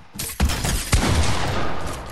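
Gunfire in the video game Fortnite, two sharp close shots in quick succession followed by a dense rolling barrage of fire and booms, loud with no talking over it.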